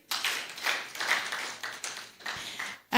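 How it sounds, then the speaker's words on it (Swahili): Audience at a culture-themed gathering clapping for a presenter, a few short bursts of scattered hand claps from a small group, fairly close, with brief gaps between bursts. "Makofi kwake."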